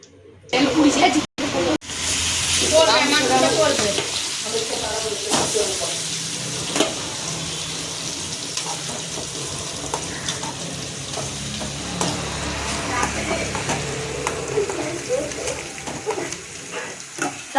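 Fish frying in a pan, a bright steady sizzle and hiss with stirring and scraping, close and loud after a couple of sharp knocks at the start, with speech occasionally over it.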